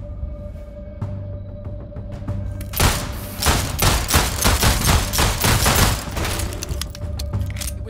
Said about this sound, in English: Just shoot it dead.